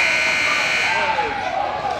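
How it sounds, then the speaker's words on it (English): A loud, sustained electronic buzzer blares steadily for a couple of seconds over a noisy ice rink during a youth hockey game, marking the end of the second period. "As the buzzer sounds for the end of second period"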